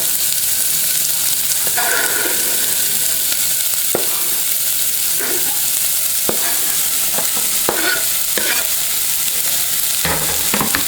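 Onion, celery and carrot sweating in oil in a soup pot, giving a loud, constant sizzle broken by repeated scraping strokes of a spoon stirring the vegetables.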